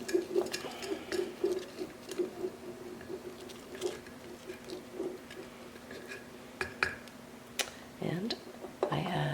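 Rye sourdough starter is stirred in a bowl, producing soft, irregular tapping and scraping patters of a utensil against the container, fairly faint, with a voice speaking quietly over it.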